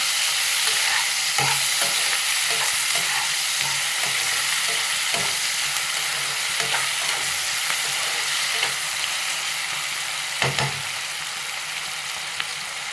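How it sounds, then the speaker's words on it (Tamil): Ginger and garlic sautéing in a pan for a tomato biryani, sizzling steadily with repeated stirring and scraping of the spoon, loud and close with no talking. "நல்லா வதக்கிக்கலாம்"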